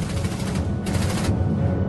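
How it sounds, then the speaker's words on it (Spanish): MG-42 machine gun of World War II firing a sustained, extremely rapid burst, loud and close, with dense unbroken rattling throughout and no speech. "La MG-42 es probablemente la mejor ametralladora de la Segunda Guerra Mundial."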